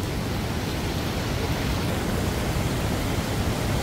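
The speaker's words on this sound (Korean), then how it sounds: "제 앞에 이렇게 큰 물이 흘러요." Broad, steady rush of a large valley stream pouring over rocks near Ssangryong waterfall in summer, a close, dense and unbroken roar filling the whole clip.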